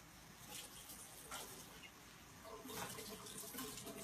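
Tap water from a faucet runs steadily into plastic ice trays, a faint continuous splashing hiss with a few brighter surges as the stream shifts.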